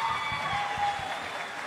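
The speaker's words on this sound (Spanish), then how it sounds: "por favor, un aplauso para él" Audience applause for the rhythm guitarist at a live Ayacucho folk music show, a brief, fairly faint patter of clapping blended with music and a sustained tone.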